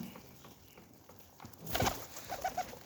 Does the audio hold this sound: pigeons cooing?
yes